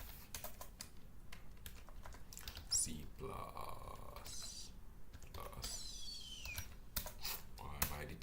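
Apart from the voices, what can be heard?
typing code on a computer keyboard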